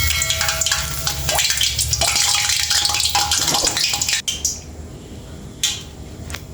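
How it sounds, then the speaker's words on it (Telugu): Hot oil in a pan for frying rice flour murukulu crackles and spits after a drop of water falls in, a dense sizzle that fades into sparse sharp pops close by. "కొంచెం వాటర్ చుక్క పడ్డదండి, చిటుకు అంటుంది ఆయిల్."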